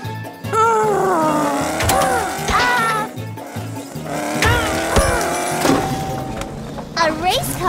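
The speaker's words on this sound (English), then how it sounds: "A race car isn't so fast in the jungle" A cartoon race car zipping through a jungle, with whining engine sweeps, ratcheting mechanical clicks and sharp tire squeals that rise and fall in quick bursts, loud and close, with bright sound effects layered over it.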